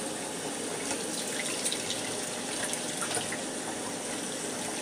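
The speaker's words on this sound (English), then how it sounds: "So I'm going to take these and just wash them a little bit with the soap." Tap water runs steadily over whiskey stones being washed with soap in a sink, a continuous close splashing stream with faint clicks of the stones.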